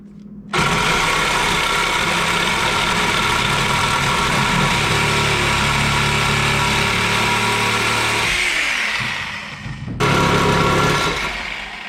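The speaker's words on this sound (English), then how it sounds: "So we're gonna get in here with the Sawzall." A Sawzall reciprocating saw cuts into a boat trailer's wooden bunk board with a loud, continuous buzzing whine that bogs down and falls off near the end, stops briefly, then starts again.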